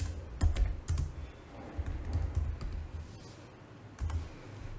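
Fingers type on a computer keyboard, giving quick bursts of close clicking keystrokes with short pauses between words.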